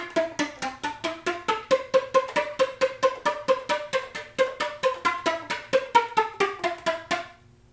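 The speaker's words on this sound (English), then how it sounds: "on the flute, tongue slap sounds literally like the pizzicato that you hear on a string instrument" Flute tongue slaps in a pizzicato extended technique: a steady series of about thirty short, percussive pitched pops played alone, evenly spaced and fairly loud, ending abruptly.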